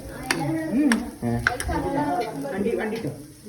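Food roasts in a pan with soft sizzling and scraping stirs, while a person talks over it nearby.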